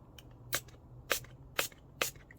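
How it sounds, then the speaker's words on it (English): Four short, sharp spray bursts of alcohol from a pump bottle onto HO scale model railroad track for cleaning, evenly spaced about half a second apart, with quiet pauses between. "I will spray it with some alcohol."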